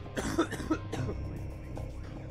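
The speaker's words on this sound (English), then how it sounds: "I took a small bowl, but it is definitely gonna make me cough." A person coughs several times in quick, rough bursts after smoking a small bowl, close and fairly quiet, followed by a softer lingering breathy stretch with no talk.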